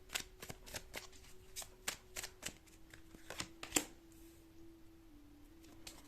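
Tarot cards are shuffled in quick, crisp riffles and flicks, a rapid series of soft snaps close to the microphone over a faint steady hum.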